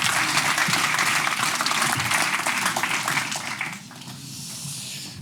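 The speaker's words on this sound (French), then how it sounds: "Merci de lui réserver un tonnerre d'applaudissements." An audience at a local marketing conference applauds as the founder takes the stage, with full, dense clapping that fades after about four seconds into a quieter room tone.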